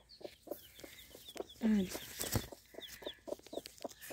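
Chickens clucking close by, short repeated calls scattered over a few seconds, with a brief spoken word and some rustling.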